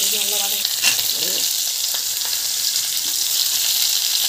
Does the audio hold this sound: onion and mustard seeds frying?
yes